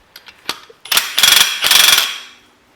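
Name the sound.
impact wrench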